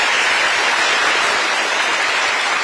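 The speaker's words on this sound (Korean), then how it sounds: "여러분 다시 한번 박수 부탁드립니다." Audience at a lecture for newly appointed grade-5 public officials breaks into loud, sustained applause, a dense wash of clapping that stays even from start to finish.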